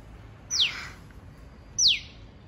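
A bird calls from a tree in a garden in the morning, two sharp descending chirps about a second apart, clear and moderately close over quiet background.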